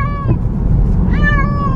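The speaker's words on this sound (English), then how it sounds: "She's been quiet and then she's been meowing" A cat lets out two drawn-out meows, one short and one longer, close and loud over a steady low engine-like drone, with no talking.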